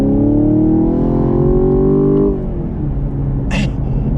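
A 2021 Chevrolet Camaro LT1 pulls hard on throttle, its loud engine note rising steadily for about two seconds before easing off into a lower rumble, with a brief faint click near the end.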